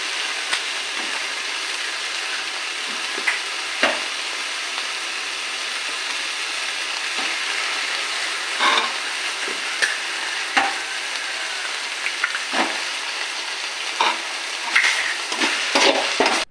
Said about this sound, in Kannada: 3 ಮೊಟ್ಟೆ ಹಾಕೊಂಡಾದ್ಮೇಲೆ ಅದನ್ನು ಕ್ಲೀನಾಗಿ ರೋಸ್ಟಾಗಿ ಬೇಯಿಸ್ಕೊಬೇಕು